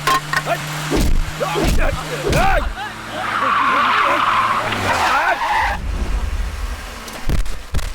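Car tires skid and squeal loudly during an action-film chase, several sharp sweeping screeches with engine roar and crash-like bursts, close and intense, with shouting voices over the mayhem.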